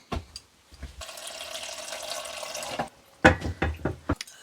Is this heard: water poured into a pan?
yes